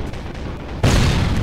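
Placed charges go off in the video game Sniper Ghost Warrior 2. After a quiet low ambience, a single loud, deep boom hits suddenly and sustains as a heavy rumbling blast.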